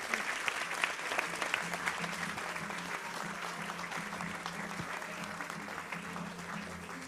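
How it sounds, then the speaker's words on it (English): Sustained applause from the audience at the F1 in Schools Australian national final awards event, an even crackle of many hands clapping, moderately distant and steady throughout. "please keep the applause going"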